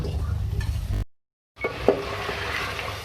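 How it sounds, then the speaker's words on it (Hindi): Beef cooked with whisked yogurt for beef daal gosht, frying and being stirred in a pot, sizzling close by with a short silent break and a soft utensil clink. "दही डालने के बाद अच्छी तरीके से इसकी भुनाई करेंगे।"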